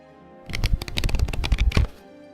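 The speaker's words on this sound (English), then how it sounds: "Does that sound like me with lots of paper in my hand?" Close, loud rustling of a stack of paper script being shuffled on a desk, a busy run of crackly flaps lasting under two seconds with quiet before and after.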